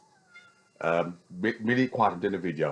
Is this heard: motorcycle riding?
no